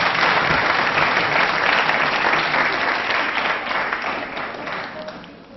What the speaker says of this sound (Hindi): तालियां बजाइए इनके लिए फिलहाल।